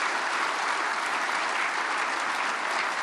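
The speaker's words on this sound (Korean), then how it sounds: "박수로 뜨겁게 환영해 주시길 바랍니다" A congregation at a Korean prayer meeting for peaceful unification claps warmly to welcome a guest speaker, a steady, dense wash of applause that continues without pause.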